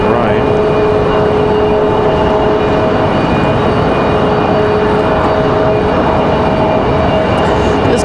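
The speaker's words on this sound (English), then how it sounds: "We've got a Delta cleared for takeoff here" Delta Airbus A319 taking off from runway 23 right at Raleigh-Durham International Airport, a loud, sustained jet engine roar with steady tonal whines that fills the whole stretch without pause.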